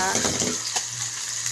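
Loud, steady sizzling and crackling of garlic and onion frying in hot, splattering oil, close up, with light stirring scrapes.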